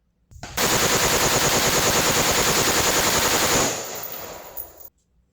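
Rapid rifle fire through a forced reset trigger using 77 grain rounds, a loud, fast, even burst of shots lasting about three seconds before trailing off into echo.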